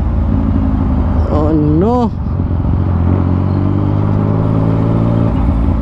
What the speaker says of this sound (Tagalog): Hindi talaga magsaya mag big bike dito sa EDSA mga kachoko.